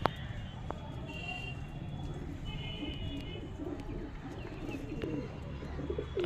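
Restless pigeons coo in a loft, a continuous low burbling with a few brief higher chirps over busy background noise.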